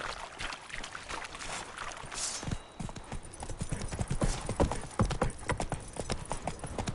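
Roach, the horse in The Witcher 3: Wild Hunt, galloping, with a fast rhythmic drumming of hooves on the ground, close and loud, going on throughout without talk.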